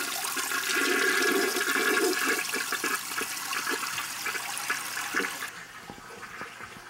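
A household toilet flushes nearby, a loud rushing gush of water that swirls and drains, then fades into a quieter refill trickle toward the end.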